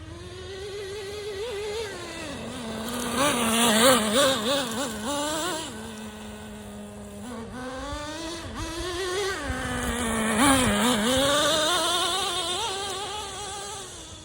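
A Traxxas Nitro Slash nitro RC car engine revs hard and high, its buzzing whine rising and falling in repeated bursts with brief idle dips between, loud and close with no voices.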